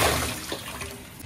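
Chicken pieces rinsed in water, a close, loud wash of sloshing and running water with splashy texture that gradually eases off, with no talk.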